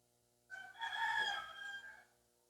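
A rooster crows once, loud and close, among hens in a garden, a single drawn-out call rising and fading against a quiet background.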